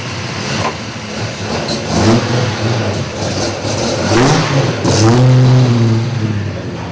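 A 1965 Chrysler Valiant AP6 sedan's 265 Hemi Six engine revs loud and close, its throaty six-cylinder note rising and falling through repeated throttle blips over a steady rumbling idle.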